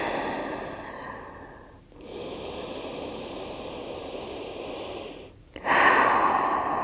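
Slow, deep breathing during a yoga sphinx pose, close and fairly loud: a long airy exhale, a brief pause, another sustained breath, then a stronger inhale.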